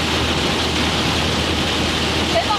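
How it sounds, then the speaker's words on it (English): Pouring rain drums steadily on a car during car camping in France, a dense, constant hiss filling the whole stretch with no pauses and no talking. "it's pouring rain"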